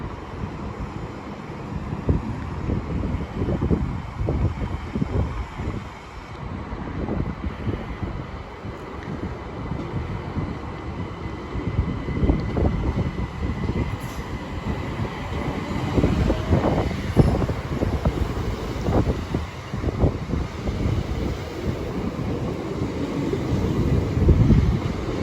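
A Southeastern Class 375 electric train runs through Ashford International station, heard as a long rumble of wheels and clattering rail joints mixed with wind noise on the microphone, gradually building in loudness.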